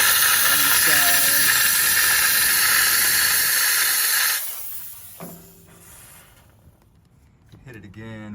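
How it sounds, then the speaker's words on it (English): Aerosol degreaser sprays in a loud, steady hiss onto the rear suspension of a 1967-72 Chevrolet C20 truck for about four seconds, then cuts off, leaving quieter shuffling and a few spoken words. "Hit it again with more degreaser."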